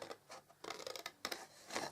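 Scissors snipping along score lines in card while making a gift bag, a series of short crisp cuts in close, quiet bursts with no talking.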